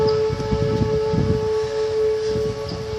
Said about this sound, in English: all the sirens in our county sound at once